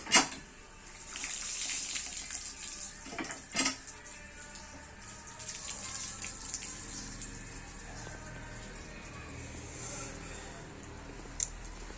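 Palm fruit pieces are rinsed in water, with splashing and dripping, a few sharp knocks near the start and softer trickling after.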